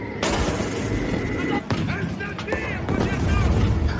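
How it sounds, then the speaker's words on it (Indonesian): Long-range artillery fire in a war film rumbles as a dense, continuous roar with sharp booms breaking through, while a voice talks over the battle. "kedua belah pihak saling menembakkan artileri jarak jauh yang terus berlangsung"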